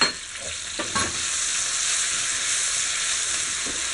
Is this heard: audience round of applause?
no